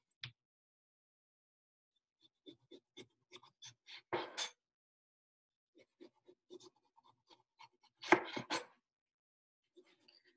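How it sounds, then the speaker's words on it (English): A knife peeling the rubbery skin from a mango on a cutting board, heard as a run of soft, close scraping and slicing strokes in short bursts with quiet gaps, two louder rasping cuts standing out. "So you're just going to use your knife to peel it."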